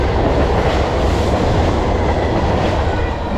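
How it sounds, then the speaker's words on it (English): A Metro commuter train rumbles past at close range beside a trail in Prospect Heights, loud and continuous, with a dense roar of wheels on rails and faint rhythmic clatter. "There's a train to our left."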